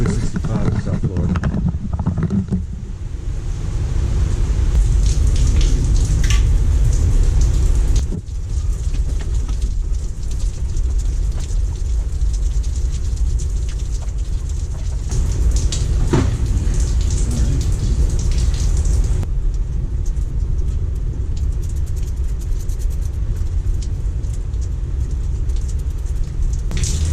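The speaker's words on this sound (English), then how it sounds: "blue skies and pouring rain" Pouring rain in Miami, South Florida, hisses as a steady broadband wash across the whole stretch, loud and continuous with a brief dip near the start, while a person talks over it.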